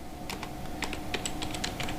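Left button of a computer mouse clicked repeatedly during a mouse-operation lesson: a series of small, quiet, crisp clicks in uneven quick pairs and singles over a steady low hum, with no voice.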